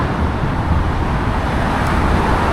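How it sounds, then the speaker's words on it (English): Road traffic hums continuously as cars pass on the road beside a bridge on a rainy day, with a dense, even rumble of tires and engines and no distinct individual pass-bys. "See the cars going the other way."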